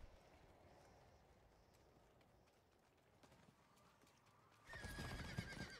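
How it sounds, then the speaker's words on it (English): Video game horse with clip-clop hooves and a whinny, quiet at first, then a louder burst of hoofbeats and neighing near the end, with no talk over it. "Alright, I have a fucking horse."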